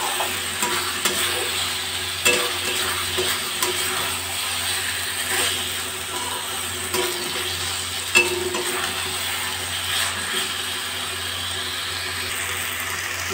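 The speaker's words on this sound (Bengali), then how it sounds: "মাঝে মাঝে একটু নাড়াচাড়া করে দিতে হবে" Malabar spinach curry with potato, pumpkin, eggplant and ridge gourd cooks down in a pan over high flame, giving a steady sizzle with occasional scraping stirs and light clinks throughout.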